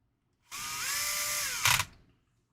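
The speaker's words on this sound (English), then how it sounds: "Re-drill the skid" A power drill bores back into a crawler skid plate in one short, close burst, its whine steady for about a second before a brief louder bite as it cuts through, then stops.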